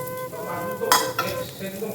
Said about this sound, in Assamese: মাছ ফ্ৰাই হৈ গ'ল দেখিছেনে কিমান ধুনীয়া হৈছে কৰতি মাছ